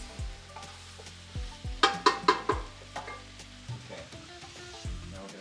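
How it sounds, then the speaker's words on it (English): Chicken adobo sautés in a pan, a low sizzle under a series of sharp spoon-on-pan knocks and scrapes, several clustered near the middle, close and moderately loud with no talk. "So we have to saute it for a few minutes."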